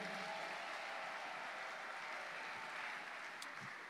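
A congregation claps together during an evangelist's sermon on repentance, a steady, dense wash of applause that fills the whole moment without a break, fairly soft and slightly distant, with no voices over it.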